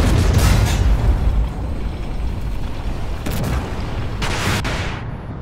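Missile explosion in a tank combat video game during an XM1A3 PvE mission: a loud booming blast that rumbles on, with a few sharper impact cracks and a fading low roar.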